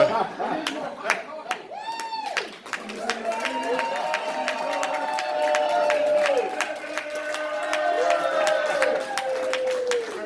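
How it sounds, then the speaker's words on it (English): An audience at a marketing talk claps and cheers, with sharp individual claps over a sustained crowd roar and rising whoops and shouts that build and hold throughout. "thank you for that amazing applause"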